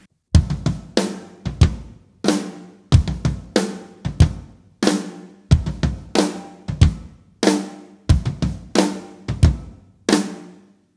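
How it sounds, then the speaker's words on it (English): A drum kit plays the verse groove of a song: a heavy, repeating pattern of punchy kick and snare hits with cymbals, recorded close and loud, with short gaps between the phrases. "Now I'm showing you the main groove of the verse"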